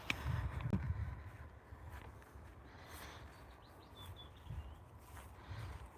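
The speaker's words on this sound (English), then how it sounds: "I want you guys to hear the amazing birds that we've got here" Birds chirp and sing in wet woodland on a hillside, faint and scattered, with a few short high calls over soft low rustling and footsteps on slippery grass.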